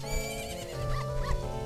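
The horse Epona in Zelda: Majora's Mask gives a short, tonal neigh with a wavering whinny, close and clear over a steady game music bed.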